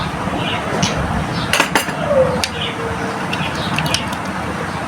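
Homemade hotpot ingredients, carrots among them, stirred in a pot with a utensil, giving soft scraping clinks and a few sharp metal taps over a steady background hiss, with a faint voice.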